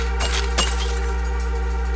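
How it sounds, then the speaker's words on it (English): Glass breaking under gunfire in the top-down action game Hotline Miami: two sharp, bright crashes in quick succession over a steady low electronic soundtrack hum, with no voice. "Oh, I can shoot through the glass."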